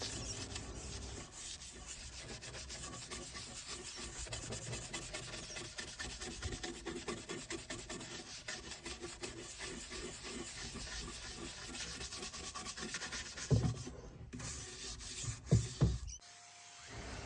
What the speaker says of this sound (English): I scuff sand everything using 120 grit sandpaper